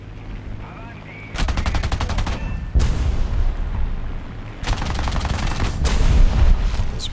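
Aircraft machine guns of a CR.32 quater biplane fire in War Thunder air realistic battle, three loud rapid bursts of several seconds each over steady engine drone, no talking.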